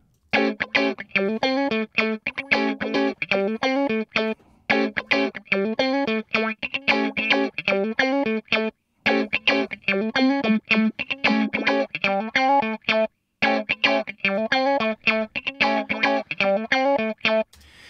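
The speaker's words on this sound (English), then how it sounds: "If I make this really peaky, you get a real wah." Peaky wah-style filter from the iZotope Trash 2 plugin sweeping over a repeating distorted synth or guitar phrase, a rhythmic pulsing pattern with resonant vowel-like sweeps, loud and steady.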